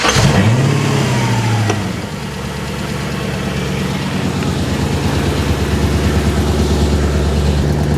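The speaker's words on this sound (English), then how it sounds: "It's a very slight ticking sound coming from the exhaust, but doesn't sound horrible" A Porsche 986 Boxster with a swapped-in V8 engine runs loudly. It revs briefly at the start, then settles into a steady, even idle with a slight exhaust ticking.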